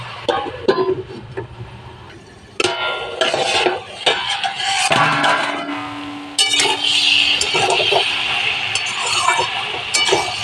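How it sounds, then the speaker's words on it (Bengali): Metal pots and utensils clink and scrape, followed by a lid clattering onto a pot of cabbage, potato and carrot curry, then a soft sizzle beneath; several sharp knocks stand out clearly, close and loud. "এবারে একটু ঢেকে দেব"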